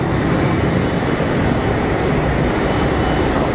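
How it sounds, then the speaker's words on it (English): EasyJet airliner taking off from Geneva Airport, a dense, loud, continuous engine roar with steady broadband rumble throughout, heard alone without voices. "I think that was the Austrian EasyJet heading out"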